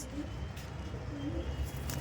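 Male Indian fantail-type pigeons (ondra pigeons) kept at a home loft give soft, low cooing calls, faint and brief over a quiet background hum.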